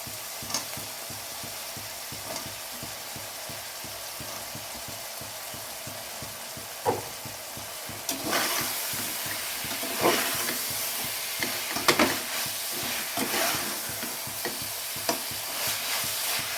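Mushrooms frying with onion and tomato in a pan give a soft, continuous sizzle, with scraping stirs from a spoon that grow more frequent in the second half.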